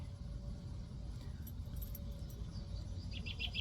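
Crickets chirp outdoors in faint, rhythmic high pulses that grow clearer toward the end, over a steady low rumble like distant traffic.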